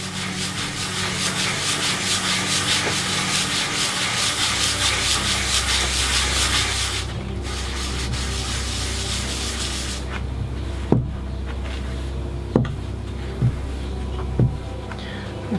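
An iron-nickel meteorite is rubbed back and forth on sandpaper, a loud, steady gritty scraping for several seconds, then quieter, with a few sharp knocks near the end.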